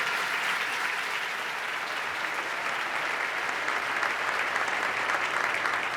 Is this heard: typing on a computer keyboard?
no